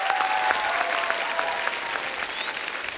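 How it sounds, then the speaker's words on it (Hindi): Loud, steady studio audience applause on a Hindi TV comedy talk show, dense clapping holding evenly for about three seconds with no speech over it. "उनके लिए जोरदार तालियां होनी चाहिए।"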